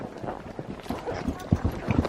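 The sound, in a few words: horse hooves clip-clopping during a ride in Cappadocia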